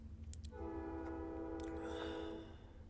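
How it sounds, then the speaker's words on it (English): A passing train sounds one sustained horn blast lasting about two seconds, heard from some distance outside over a low background rumble. "Can you guys hear that train? Jeez, that thing's loud."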